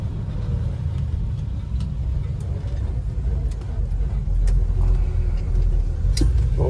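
A 1967 Chevelle SS 396 with a four-speed manual cruises along, its big engine giving a steady low rumble from inside the cabin that swells slightly louder partway through.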